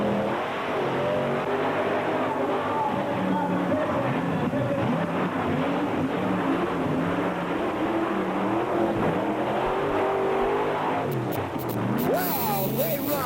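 The Nightmare monster truck racing at Allentown in 1988, its big engine roaring and revving loudly and continuously under crowd noise and a commentator's voice.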